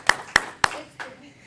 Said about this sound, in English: Okay, we're clapping.